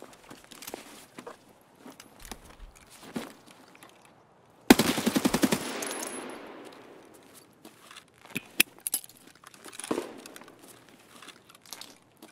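AKS-74U fire in Escape From Tarkov, a sharp burst of automatic shots cutting through a quiet scene, followed by scattered rustling, footsteps and a few isolated cracks at low level.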